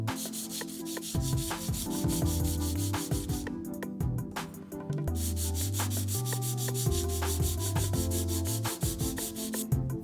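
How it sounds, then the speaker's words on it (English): Hand sanding a wooden chopstick with a hand sander and finer-grit sandpaper: steady, close back-and-forth rubbing strokes that rasp continuously for the whole stretch, with a brief lighter pause midway and no talking. "we're going to refine the sanding by using a hand sander and a finer grit of paper"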